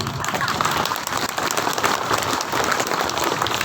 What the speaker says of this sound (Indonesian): Tepuk tangan keras-keras biar dia malu.